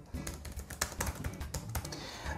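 Typing on a computer keyboard while entering sample text into an Excel spreadsheet, a quick, close run of light key clicks in an uneven, continuous patter.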